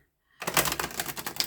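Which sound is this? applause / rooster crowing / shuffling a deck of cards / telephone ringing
shuffling a deck of cards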